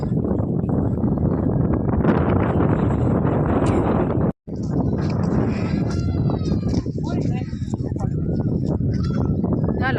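Wind buffets the microphone in loud, continuous gusts with a brief dropout midway at the Harshad Mataji temple tank in Gujarat; faint voices can be heard beneath the rushing noise.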